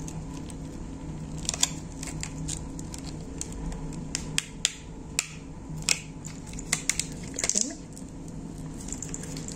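A Younique makeup package being opened, with scattered sharp clicks, snaps and crinkly handling noises in irregular bursts, close by, over a low steady background hum.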